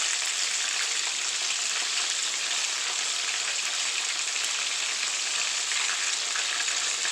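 Flour-dusted meatballs (albondigas) frying in a pan, a steady, dense sizzle and crackle of hot oil that holds close and even throughout with no talk.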